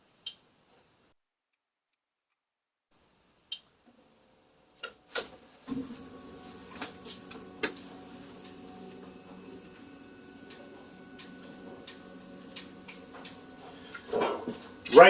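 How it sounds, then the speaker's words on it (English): A DIY CNC plasma table homes its X and Y axes: a few isolated taps over near silence, then a steady motor whine sets in with irregular clicks and ticks, ending in a louder clatter. "Right now it's homing the x-axis, and now it's homing the y-axis."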